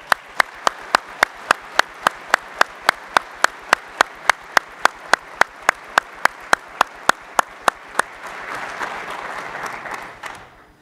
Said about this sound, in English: So please join me in giving them an incredible round of applause.